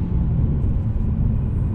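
A Lexus RC F engine rumbles deep and steady from inside the car, loud and continuous, with no clear shift break in this short stretch.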